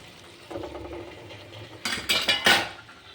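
Cut radish pieces tipped into a pan of cooked-down tomato mixture for a radish curry, giving several quick, loud clattering knocks of food and utensil against the metal pan, standing out after a quieter stretch of faint kitchen noise.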